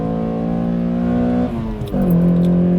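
A Honda Accord Euro R CL1 engine holds a loud, steady high rev, dips briefly, then climbs again onto the VTEC cam with a harder, sharper tone, close and alone.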